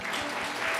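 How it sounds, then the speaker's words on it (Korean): A church congregation at a Sunday school graduation service claps in a brief, dense burst of steady applause. "박수로 한번 축복할까요?"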